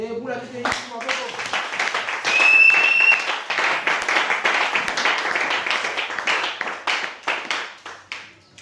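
A church congregation claps and applauds loudly and steadily throughout, with a brief swell near the middle and sharp hand claps standing out from the crowd.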